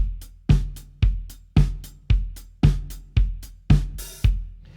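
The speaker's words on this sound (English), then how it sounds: "you can just add kick on every beat" A drum kit plays a four-on-the-floor groove for a song, with a punchy kick on every beat mixed with snare and hi-hat hits in a steady driving pulse, close and loud with no speech.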